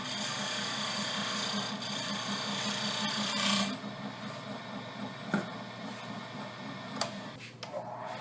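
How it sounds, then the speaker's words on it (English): A 3/8 inch US bowl gouge cutting a wooden bell-shaped Christmas ornament spinning on a lathe, giving a steady close scraping, rasping hum with a low motor drone, easing after a few seconds into lighter intermittent cuts. "And this is a 3/8 bowl gouge."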